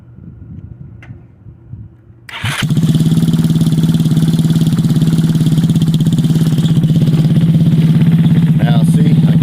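A motorcycle engine cranks and fires up, settling into a loud, steady running idle close by, with a faint rattle before it catches.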